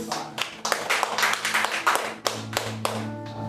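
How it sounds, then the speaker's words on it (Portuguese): Church congregation clapping during a worship service, brisk rhythmic hand claps from a group, fairly close and lively, with a sustained tone entering near the end. "E as palmas bem alegres para Jesus."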